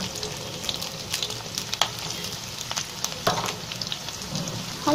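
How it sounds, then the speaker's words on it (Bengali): Diced onion cubes drop into a little hot oil in a pan and fry with a close, crackling sizzle, scattered pops and a few clinks of a spoon against the pan, with nobody talking. "সেজন্য এখন দিয়ে দিচ্ছি পেঁয়াজ কুচি।"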